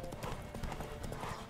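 Horse hooves galloping in a race in the video game The Witcher 3: Wild Hunt, a rapid, steady clip-clop rhythm of close, fairly loud hoofbeats with no talk over it.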